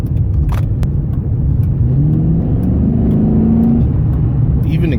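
2006 Dodge Charger RT 5.7L HEMI accelerating from inside the cabin, a deep engine drone rising in pitch over a few seconds under a steady road rumble, with brief clicks near the start.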